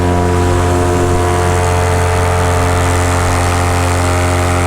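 Paramotor engine at full throttle, a loud steady propeller drone with strong low harmonic hum, close and continuous throughout, no talking.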